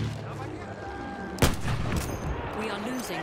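A Martini-Henry rifle fires in Battlefield 1, one sharp loud report with a trailing echo, set against a dense bed of distant battlefield gunfire and ambient noise.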